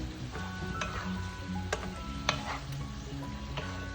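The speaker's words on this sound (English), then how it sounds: "Give that a stir" Jackfruit stirred in coconut milk in a pan gives a soft, continuous sizzle and bubbling, with occasional spoon taps and scrapes against the pan.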